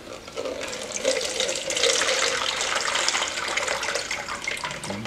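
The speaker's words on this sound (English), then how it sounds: "Rinse it with water." Tap water runs steadily to rinse Rochester Quadrajet carburetor parts, a continuous broadband hiss and splash close by, rising slightly in the second half, with no talk.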